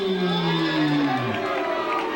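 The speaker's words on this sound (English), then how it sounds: "I think the crowd is chanting Lou." A crowd cheers and chants at a 1991 martial arts forms competition at the Jet Center, a sustained rising roar of voices heard briefly.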